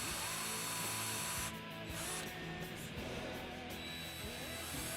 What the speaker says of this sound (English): Then you're gonna take your 2x4 and drill only as far as the linkage requires.